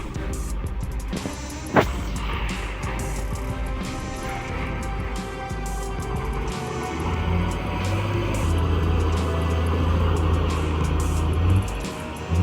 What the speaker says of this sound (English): The driver pushes hard, but the engine groans under the weight of soaked firewood and saturated wheels.